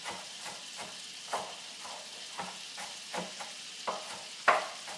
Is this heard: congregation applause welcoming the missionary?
no